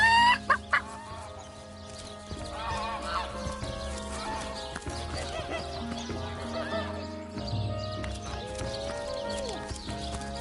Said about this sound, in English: That rooster thinks he's such hot stuff.